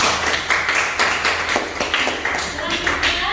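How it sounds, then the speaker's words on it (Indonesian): A classroom of students claps for a presenting group at the end of a maths lesson, a brief burst of scattered, fairly close clapping that lasts a few seconds, with voices mixed in. "Tepuk tangan untuk kelompok 3."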